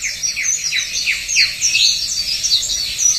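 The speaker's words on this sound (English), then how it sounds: "a female Bird of Paradise finally appeared" A female bird of paradise calls in a run of repeated descending chirps and squawks, close and clear over a soft wildlife background with no talk.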